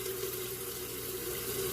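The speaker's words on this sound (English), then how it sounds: "Rinse the beard." Water running at a sink while a beard is rinsed, a steady rushing faucet stream, close and constant.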